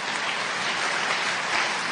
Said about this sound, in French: Oui, on peut applaudir le Seigneur.